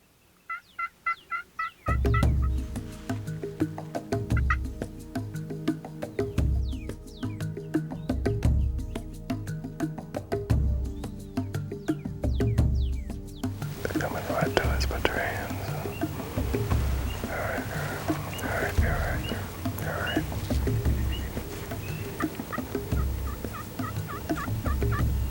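Large flock of wild turkey hens and a few jakes outdoors, gobbling and clucking continuously and fairly close, with someone talking over the calls.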